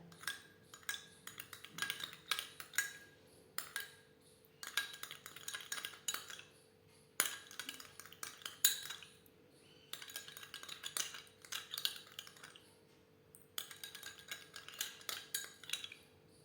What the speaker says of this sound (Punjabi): ਇਹਨੂੰ ਦੋ ਚੰਗੀ ਤਰ੍ਹਾਂ ਆਪਾਂ ਇਹਨਾਂ ਨੂੰ ਮਿਲਾ ਦੇਣਾ